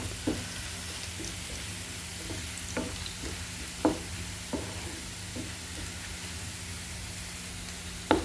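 Garlic and dried chillies fry in oil as a tempering for jute leaves, giving a steady soft sizzle with occasional scrape and clink of stirring, no voices.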